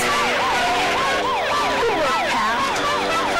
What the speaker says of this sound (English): They're sending an ambulance.